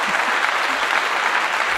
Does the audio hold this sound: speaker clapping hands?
yes